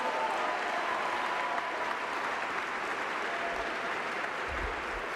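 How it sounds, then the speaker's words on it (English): An audience at a Martin Luther King Jr. birthday celebration applauds student painters from Roosevelt Elementary School, a dense, even clapping that holds steady throughout. "so if we can give them a round of applause."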